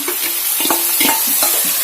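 Soaked meal maker soy chunks tipped into browned fried onions in a hot pan for a dum biryani, giving a steady close sizzle with stirring scrapes throughout and no talk.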